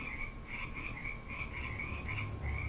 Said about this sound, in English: There's probably like 50 bullfrogs.